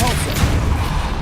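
A Depulso spell cast in the video game Hogwarts Legacy gives a loud, dense burst of blasting noise that rolls on without a break for just over a second, with no clear voice over it.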